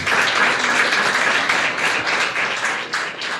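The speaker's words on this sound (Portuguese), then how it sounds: "Aplauda ao Senhor Jesus." A church congregation applauds loudly and steadily, a dense wash of many hands clapping together throughout, with no talking over it.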